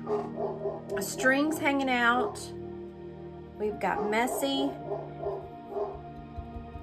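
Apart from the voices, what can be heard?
dog barking and yipping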